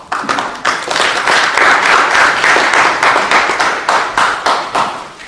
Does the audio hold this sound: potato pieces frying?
no